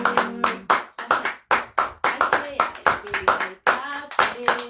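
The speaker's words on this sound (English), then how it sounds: "I feel like clapping." Rhythmic hand clapping in quick bursts with short pauses, mixed with singing voices and musical tones throughout, during a midnight online prayer service.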